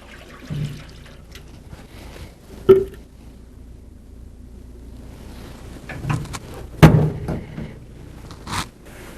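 A pan of water set into a smokehouse while making sausage chubs, with faint sloshing and trickling plus a few sharp metallic knocks and scrapes as it is placed, close and intermittent.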